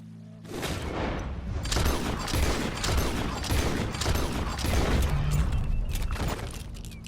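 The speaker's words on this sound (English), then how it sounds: "He shot the thing!" Gunfire in Red Dead Redemption 2 crackles through a loud, continuous in-game barrage of rapid shots and booms, heard close and dense for the whole stretch without any talk.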